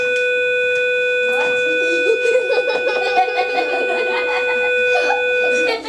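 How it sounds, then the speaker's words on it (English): A steady electronic school attendance bell rings continuously for several seconds while a classroom full of people chatters underneath. "That's the attendance bell"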